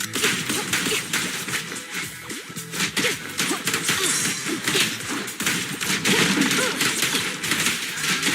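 Rapid bursts of gunfire from the Suppressor K-22 in the video game Zenless Zone Zero, dense sharp cracks in quick succession, loud and close throughout, mixed with thuds and game effects.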